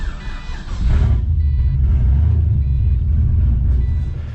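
A Nissan 300ZX running on E85 pulls into a garage, its engine a deep steady low rumble close by, with a brief higher mechanical whine at the start and no talking.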